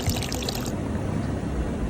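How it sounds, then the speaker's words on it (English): Water spills over from a drain blocked with moss, feathers and dried gunk, splashing steadily onto the floor in a continuous, close-up gush that hisses bright at first and then settles into a lower, rushing trickle. "It's overflowing in the middle there and splashing on the floor and washing it all away"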